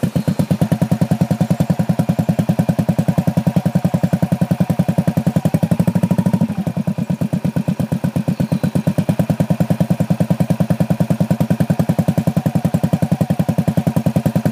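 Motorcycle engine running steadily with a rapid, even mechanical beat, close and loud, a brief dip midway then picking back up to a sustained idle-to-revving drone.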